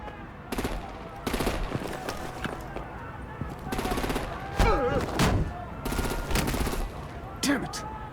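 Gunfire in a Telltale Batman: The Enemy Within video game comes as repeated bursts of rapid shots and heavy blasts, spread unevenly over several seconds among other loud action sounds.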